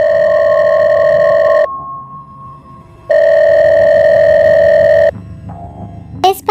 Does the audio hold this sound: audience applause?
no